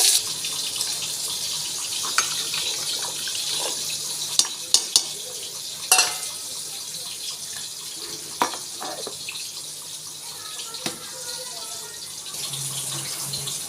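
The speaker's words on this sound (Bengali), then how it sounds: "এখন এরকম মাংসের আলুটা ভেজে নিচ্ছি" Potatoes for a chicken curry fry in a pan with a steady broadband sizzle, with occasional sharp clinks of stirring utensils and a faint hum, no voices.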